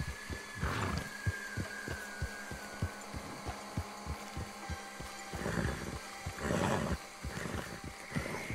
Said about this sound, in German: Da ist ein Bär, ja, tatsächlich.